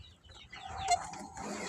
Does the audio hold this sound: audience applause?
no